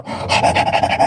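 A dog pants in quick, even, breathy puffs close up, several short rapid breaths in a row with no talk over them.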